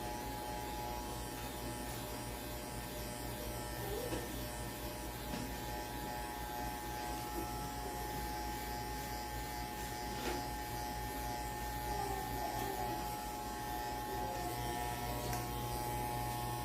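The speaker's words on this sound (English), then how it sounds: "I was just saying that I am trimming my son's hair today." Electric hair clippers trimming a boy's hair at home give a steady, close buzz with a mains-like hum that runs unbroken for the whole stretch and holds an even loudness.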